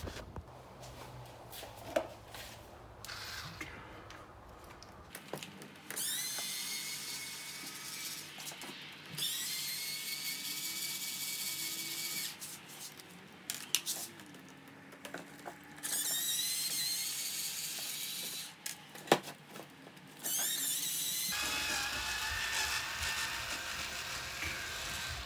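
A hex driver works out small 2.5 mm screws from a Traxxas-style Typhon RC car hub carrier, faint ratcheting clicks and light metallic taps, with bursts of louder hissy mechanical noise.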